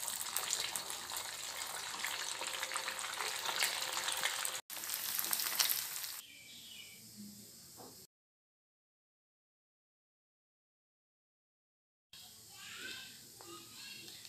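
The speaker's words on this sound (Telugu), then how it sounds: "ఇప్పుడు వీటిని ఫ్రై చేసేసుకుందాము. ఇప్పుడు అందులో వేసేద్దాము వాటిని." Vermicelli bonda balls dropped into hot oil and frying, a steady broadband sizzle that breaks off and returns after a pause of silence, close and fairly loud.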